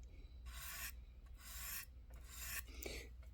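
Rough spots on a fountain pen nib being ground into an architect grind, heard as three separate rasping filing strokes, each about half a second long, steady and close, with short pauses between them and no talking.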